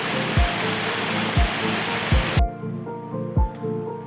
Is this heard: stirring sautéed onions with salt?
no